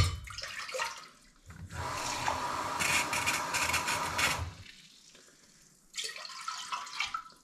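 Tap water runs into a pressure cooker for soup in bursts: a short pour, a longer steady splashing stream, a pause, then another pour, close and fairly loud.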